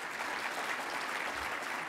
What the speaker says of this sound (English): A huge round of applause, please, to Damon, Josh,